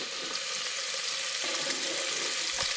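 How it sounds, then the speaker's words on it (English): Garlic, peppers, ginger and onions sautéing in a pot for dahl, a steady close hiss and crackle of frying vegetables with a brief clatter near the end, no talking. "So you want to saute this for about 2 to 3 minutes up until your onions are nice and soft"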